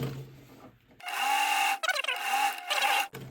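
A sewing machine runs a long back stitch on a crossbody bag, two loud sustained bursts of whirring motor and needle separated by a brief pause, with quieter handling sounds before and after.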